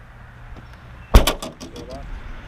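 A car door slams shut with a loud close thud, followed by a quick series of clicks and a chirp as the car locks, outdoors before a hike.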